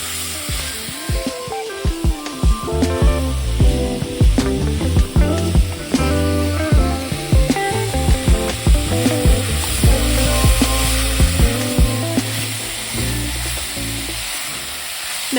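Chopped vegetables sweating with celery seasoned salt sizzle and fry steadily in a pot, a loud continuous crackle broken by repeated stirring scrapes, with no talking.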